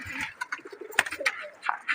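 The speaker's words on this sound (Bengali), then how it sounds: "এখানে সব আমার বাসারই কবুতর" Household pigeons coo close by in a loose, uneven series of soft throaty calls, with a few sharp clicks and flutters mixed in and a voice murmuring faintly in the background.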